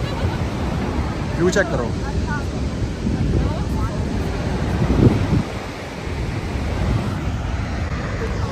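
Niagara Falls roars steadily beneath gusty wind noise, with a voice speaking briefly over it.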